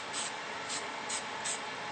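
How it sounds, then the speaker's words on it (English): Four short hissing bursts of spray paint at a steady rhythm, close by, against a soft background hiss. "all I did is just spray some of the planet black"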